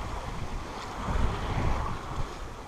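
A sailboat under sail along the Mediterranean coast, with wind rushing over the microphone and waves washing against the hull in a steady broad roar, close and moderately loud, with no voices.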